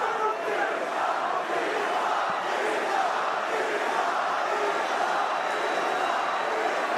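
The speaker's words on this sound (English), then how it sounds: "Khabib is cheerleading the crowd as the Islam chants rain down" A packed UFC arena crowd chants for Islam Makhachev, a dense, loud roar of voices rising and falling in rhythmic waves, with commentators talking over it.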